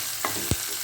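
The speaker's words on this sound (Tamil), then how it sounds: "இப்போ கொஞ்சம் வெங்காயம் வதங்க ஆரம்பிச்சிருச்சு." Onions sizzle in a hot pan while a utensil scrapes and stirs, two short knocks standing out over the steady frying hiss.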